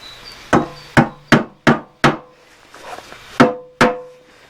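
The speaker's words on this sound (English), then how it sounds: "So I'm just putting these little plastic clips back in again." Small plastic clips are pushed into a Volvo 480 rear bumper, seven sharp close knocks and snaps in an irregular series with short gaps between them.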